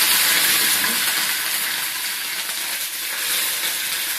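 Curry leaves dropped into about 50 ml of hot coconut oil give a steady, loud sizzle that hisses continuously throughout, close up and with no talking.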